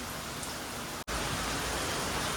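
Heavy rain falls outside in Adimali, Kerala, a thick continuous wash of close, loud patter with one brief dropout partway through.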